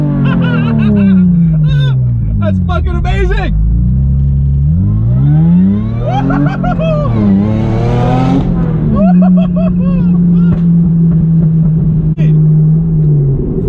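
A supercharged V6 Toyota MR2 sits at a stop and is revved hard, engine note rising and falling loudly up close with a high supercharger whine riding on top; a man exclaims briefly near the end.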